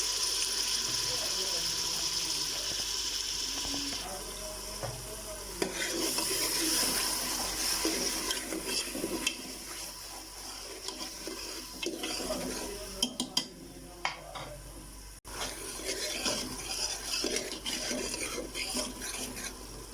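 Garlic paste frying in a pan for a beef nihari, a close sizzle under repeated spoon scrapes and clinks against the metal that thins and becomes patchier toward the end.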